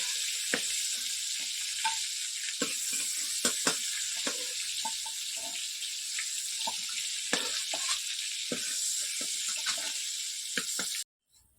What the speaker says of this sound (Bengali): চিংড়ি মাছগুলো ভাজা হয়ে গেছে, এবার চিংড়ি মাছগুলোকে নামিয়ে নেব।